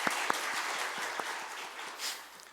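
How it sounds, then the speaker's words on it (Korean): A church congregation applauds during a worship service, with scattered claps blending into a soft wash of applause that fades toward the end, no voices over it. "우리 하나님 앞에 오늘 이 예배를 기뻐 받아주실 하나님 앞에 우리 영광의 박수 한번 올릴까요?"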